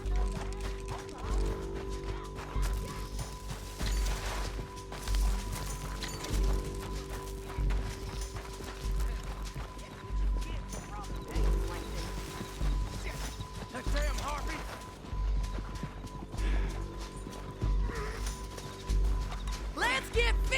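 Horse hooves clip-clop at an uneven pace in Red Dead Redemption 2, with an occasional whinny, under a steady hum and scattered voices talking.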